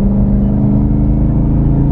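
Jeep JK with an LT 6.2 L86 V8 and 8-speed transmission accelerating onto a highway, a loud, deep, steady engine drone heard from inside the cabin for two seconds without speech.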